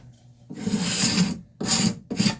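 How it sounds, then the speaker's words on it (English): A scraper is pushed along the edges of a wooden kitchen cabinet drawer to remove excess dried glue, making three rough rasping strokes, one long and two shorter, loud and close. "I'm going to scrape any of this excess glue off along these edges"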